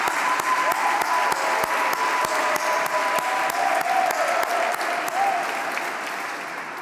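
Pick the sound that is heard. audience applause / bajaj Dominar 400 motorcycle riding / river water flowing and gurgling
audience applause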